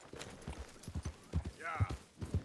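A horse in Red Dead Redemption 2 gallops with a run of clip-clop hooves in uneven bursts, a short whinny rising in the middle, a rider urging it on under speech.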